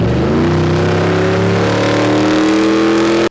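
A loud Ford 6.2 V8 engine in a first-generation Raptor truck revs up, its throaty roar climbing steadily in pitch over a few seconds before cutting off abruptly.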